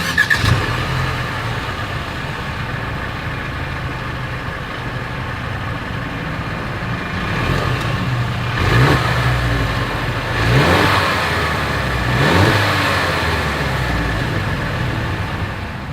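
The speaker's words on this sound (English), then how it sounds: "As always, here is that exhaust clip." A 2022 Mercedes-Benz GLC 300 engine idles with a low exhaust burble, then revs up sharply three times in succession, each rev rising and falling away.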